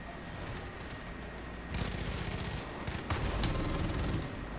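Gunfire in the video game Far Cry 5: a low rumbling backdrop, then rapid bursts of automatic shots break out, dense and loud, in two long volleys with a short gap between them.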